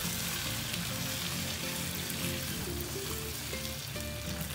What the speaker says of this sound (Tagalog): Tapos haluin nyo po ng ma-mix siyang mabuti dun sa ating karne.